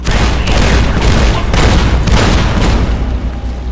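A Securitron M235 missile launcher fires in Fallout: New Vegas, a dense, very loud run of booming blasts that barely drops off over a few seconds.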